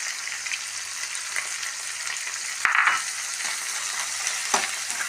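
Soya chunks with egg, onion and tomato sizzling steadily in a pan while being stirred, a constant frying hiss with a couple of sharp spoon knocks against the pan.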